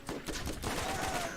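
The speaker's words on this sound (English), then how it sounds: "Oh, I hear gunshots." Rapid bursts of gunfire crackle through a busy soundscape in the video game Borderlands, several quick shots close together at steady loudness.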